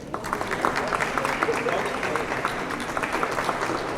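Steady applause from a crowd at a marathon race weekend kickoff, dense and continuous throughout at moderate level, with some voices mixed in.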